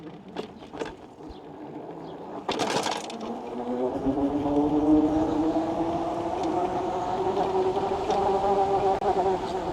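An Aniioki A9 Pro Max e-bike motor whines softly under throttle, a thin tone that rises steadily in pitch and holds, near and fairly quiet, after a few light clicks.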